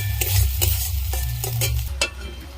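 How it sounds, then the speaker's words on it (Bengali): Soy sauce stirred into Maggi masala frying in a pan, loud steady sizzling with repeated scraping stir strokes at a quick, even rhythm. "সোয়া সসটা দিয়ে কয়েক সেকেন্ড নেড়ে নেব।"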